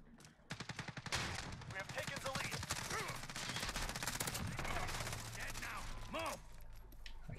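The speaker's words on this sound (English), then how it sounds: "I just used the sniper rifle." Rapid gunfire in a PS4 shooter game, with a loud, dense stream of shots and sharp reports carrying over game sounds from start to finish.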